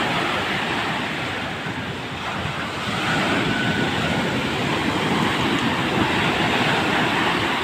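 Storm-driven sea waves crash onto a Cavite beach after Typhoon Kristine, making a constant loud roar of surf mixed with gusting wind noise, with no voices.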